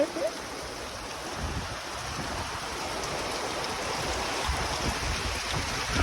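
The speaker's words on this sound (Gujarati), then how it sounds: "જોરદાર વરસાદ ચાલુ થઈ ગયો ભાઈ" Heavy rain driven by strong wind in a storm, a dense and steady roar that fills the whole stretch without a break.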